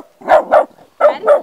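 Kari, a lively female puppy almost five months old, barks close by in two quick pairs of sharp, loud yaps separated by a short gap.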